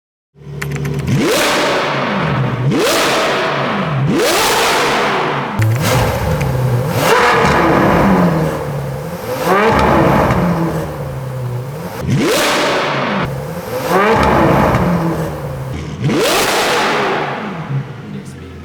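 A high-performance car engine revs hard in repeated sharp bursts, each rising to a loud crackling roar and falling away, close by with no talk.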